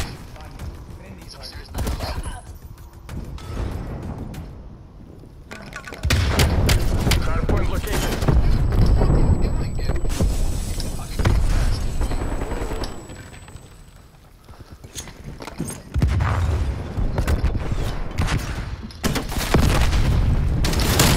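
Gunfire in a Hardpoint match of a shooter game: loud bursts of rapid automatic fire and booming shots come in waves with brief lulls, mixed with chatter from players.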